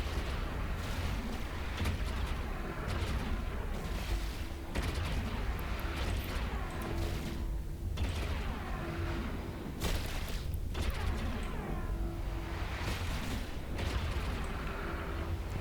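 Missiles launching in EVE Online during a Blood Raider combat site, a steady barrage of muffled booming launches and thuds repeating throughout over a constant dense ambient rumble.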